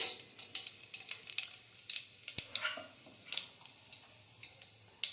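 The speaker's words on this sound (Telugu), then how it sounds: "తాలింపు గింజలు వేస్తున్నానండి." Tempering seeds sizzling in hot oil in a pan, heard as quiet, close, irregular crackles and light pops spread evenly throughout, with a single sharp tick in the middle.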